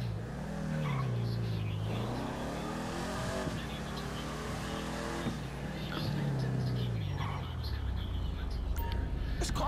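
A car engine in the GTA 5 video game revs up and down in long swooping sweeps, rising and falling pitch repeatedly, with a faint voice murmuring underneath.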